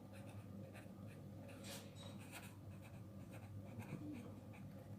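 Pen scratching steadily across paper during a math lesson, soft and continuous with short bursts of strokes, heard close over a constant low room hum.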